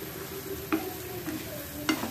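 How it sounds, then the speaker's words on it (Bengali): Bitter gourd with small potatoes and carrots frying in a pan, a soft continuous sizzle with a few sharp clicks of a spatula stirring. "এখানে করলা ভাজি করে নিচ্ছি"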